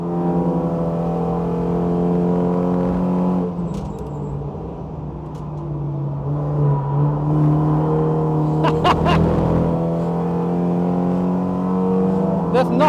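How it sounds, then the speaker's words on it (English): A production-based Super GT race car lapping a test circuit, its engine droning steadily in the cabin with gear changes and rising revs, loud and close while someone talks over it. "There's nothing like driving a race car"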